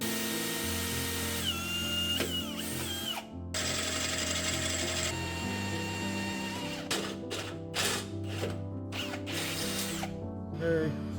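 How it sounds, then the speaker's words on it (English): A power drill whines and grinds in long bursts with brief pauses, the motor pitch shifting as it bites into steel, close and loud. "I'm gonna drill a hole, put one of these sleeves through it"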